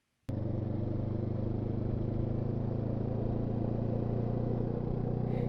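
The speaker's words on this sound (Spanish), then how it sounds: "lo mejor para comprobar todas estas cosas es arrancar el motor y ver qué tal funciona" A Benelli TRK 702 X motorcycle engine fires up with a sudden catch and settles into a steady, even idle, a close, continuous low rumble with a faint mechanical clatter throughout.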